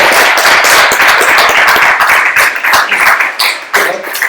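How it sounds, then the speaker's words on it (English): An audience at a London Polymer developer meetup claps steadily for an incoming speaker, a dense, even patter of many hands that holds at full strength throughout and thins slightly near the end, with no voices over it. "So let's give him a clap."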